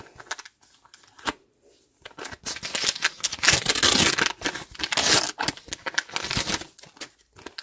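Paper surprise packet torn open by hand, with crinkling rips and rustles in irregular close bursts, loudest in the middle, with no talking.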